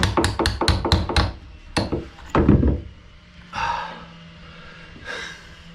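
Hammer blows drive out an old carriage bolt fastener on a wooden boat: a quick run of about seven sharp, close strikes, then a few slower, heavier hits, with breathy grunts in between.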